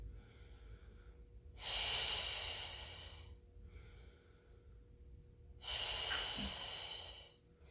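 Deep breathing during a Pilates mat exercise: two long, loud, breathy exhales, each following a quieter inhale, heard close and with no talking.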